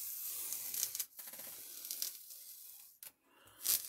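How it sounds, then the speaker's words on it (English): Backing peels off a rubber craft stamp in soft, close tearing and rubbing strokes, with short pauses between pulls. "then actually we'll just peel that off"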